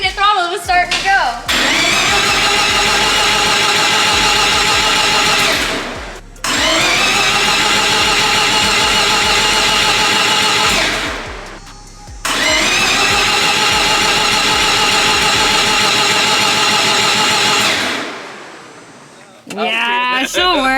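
Three-rotor Mazda RX7 engine on a dyno, loud and close, cranking to life and running in three long sustained bursts separated by brief cut-outs, a harsh buzzing rotary drone that fades out at the end.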